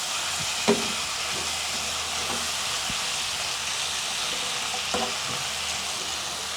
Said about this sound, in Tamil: தேசிக்காய் புளியை ஆட் பண்ணவும் நன்றாக கலக்கி விடவும்.